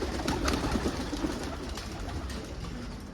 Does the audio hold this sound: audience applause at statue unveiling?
no